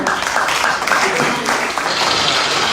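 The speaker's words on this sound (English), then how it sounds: "A round of applause for" A crowd at the AAC party's presidential primary election breaks into loud, continuous applause and cheering, a thick roar of clapping with voices mixed in throughout.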